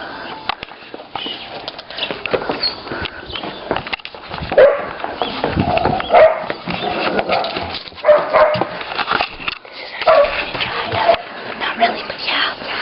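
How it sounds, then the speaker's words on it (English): Puppies bark and yip in short, irregular bursts close by. Voices and footsteps mix in between the barks. "And those are some puppies."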